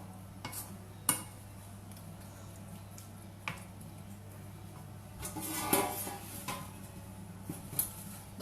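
Beaten eggs being mixed with vegetables in a frying pan or wok for a vegetable loaf, soft stirring scrapes under a steady low hum with a few sharp utensil clicks against the pan, close and quiet.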